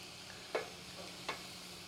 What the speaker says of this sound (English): So in the meantime that everything is grilling nicely here